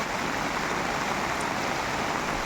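Steady, dense heavy rain in the Konkan hisses without pause, a continuous wash of falling water with no voices.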